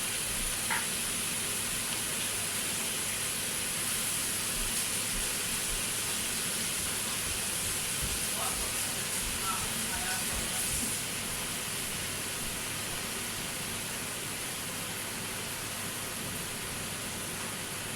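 Steady broadband rush of tap water running while hands are washed in a home kitchen during chilli cooking, continuous and fairly even, with no talking.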